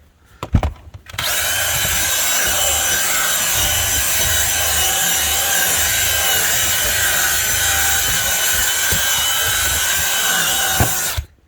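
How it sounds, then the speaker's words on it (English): A cordless drill spins a scrubbing brush across car carpet during interior detailing, a steady loud whirring grind starting after a brief pause and running continuously for about ten seconds before stopping abruptly. "and then you get a cordless drill"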